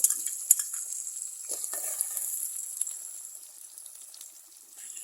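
Chopped shallots and green chilies hit hot oil for an eggplant sambar, giving a steady, close sizzle with a few stirring scrapes and clicks. No one speaks.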